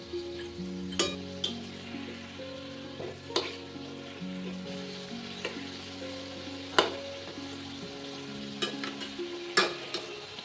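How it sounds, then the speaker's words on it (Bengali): Steady oil sizzling from food frying, with occasional clinks and scraping of a utensil stirring in the pan; no voices. "এগুলো কিন্তু ভাজা হয়ে গেছে এখন এগুলো তুলে নেব"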